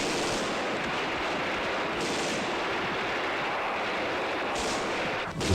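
Sustained battle-scene gunfire from an Urdu drama, a loud, dense, unbroken crackle of shots and bursts with no pause, close and harsh.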